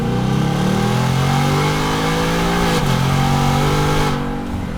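A stock 2019 Mustang GT V8 on a dyno revs hard and loud, pitch climbing steadily, a brief shift blip, then winding on before easing off.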